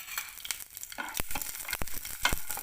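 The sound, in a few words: garlic frying in a little oil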